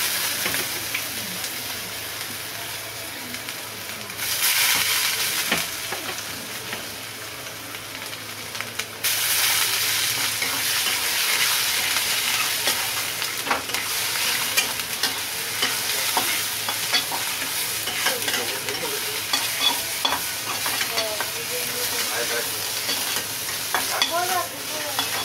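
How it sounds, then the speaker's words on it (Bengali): Onion paste fries in oil for a Bombay duck (loitya) curry, a continuous close sizzle and hiss that swells after a few seconds, with the scrape of a spoon stirring it steadily. "পেঁয়াজ বাটা দিচ্ছি"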